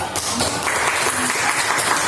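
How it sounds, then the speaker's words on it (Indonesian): A classroom of students applauds a classmate during a Christian religious education lesson, a dense, continuous wash of clapping close and fairly loud, blended with some murmuring voices. "Tepuk tangan buat teman kita."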